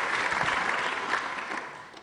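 Applause after an oath at a council meeting: a short burst of clapping, moderately loud, fading toward the end.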